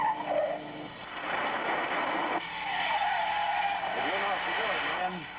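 Car tires skidding and squealing on a road during a reckless getaway drive, a long loud screech with engine noise and a shouted voice over it, ending in wavering squeal tones.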